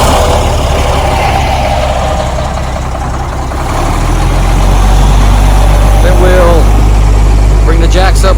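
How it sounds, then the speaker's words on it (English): A motorhome coach's heavy engine turns over and settles into a steady, loud low idle as it builds air pressure, a continuous rumble with people talking nearby. "Pam's gonna start the coach here in a minute."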